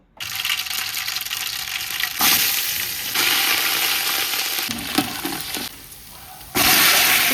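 A tempering of curry leaves, cumin, smashed onion and mustard seeds frying in hot oil gives loud, dense sizzling that surges in bursts as each ingredient hits. There are brief quieter gaps and an occasional clink.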